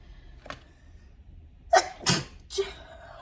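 A close, sharp sneeze bursts out in two or three quick pulses after a soft breath, then the room falls quiet.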